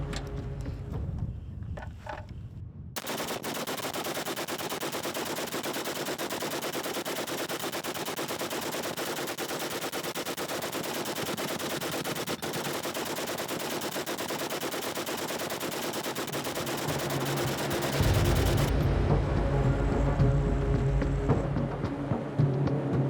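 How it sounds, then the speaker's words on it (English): Historical 1908 machine gun fired at ten paint cans: after a brief lead-in, a long uninterrupted loud burst of rapid shots runs for about fifteen seconds, ending with a deeper rumble and then quieter tail. "put the machine gun to the test using a historical example from 1908"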